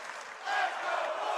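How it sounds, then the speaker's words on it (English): A basketball crowd at Barclays Center chanting "Let's go Fordham," a broad roar of many voices that swells midway and holds. "Let's go Fordham chants once again ringing through the Barclays Center"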